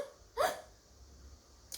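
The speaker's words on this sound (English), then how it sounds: "I too have the hiccups." A single sharp, close hiccup pops out abruptly, followed by quiet and a faint second catch of breath right at the end.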